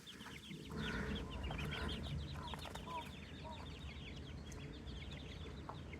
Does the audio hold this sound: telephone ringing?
no